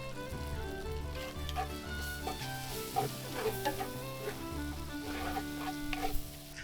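Onions frying in a pan with bacon: a moderate sizzle with intermittent stirring scrapes and small clatters, close up, over a faint steady hum, with no talking.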